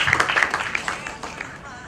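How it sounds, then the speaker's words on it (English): An audience at a breast cancer awareness campaign launch applauds cancer survivors, a burst of clapping that fades over two seconds as talk carries on alongside. "I think they deserve a big round of applause."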